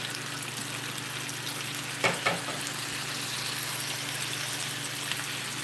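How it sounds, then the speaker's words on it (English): Shrimp hit a hot pan for fried rice, setting off a steady, loud sizzle and hiss with a couple of brief spatters partway through. "I'm going to sprinkle this shrimp in."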